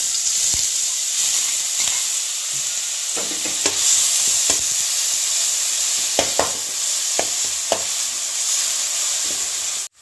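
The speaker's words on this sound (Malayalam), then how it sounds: "അപ്പോൾ നമ്മൾ നേരത്തെ ചതച്ച് വെച്ച ഉള്ളി ഇല്ലേ, അതൊന്ന് ഇട്ട് കൊടുക്കുക." Crushed onion fries in hot ghee, giving a loud, continuous sizzle close by, punctuated by repeated sharp scraping and tapping of a spatula stirring the pan over about ten seconds, with no voices.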